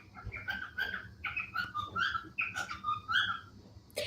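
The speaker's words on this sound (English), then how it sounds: "Those are my birds." Pet birds chirp and whistle indoors in a quick, repeated series of bright calls, moderately close but soft.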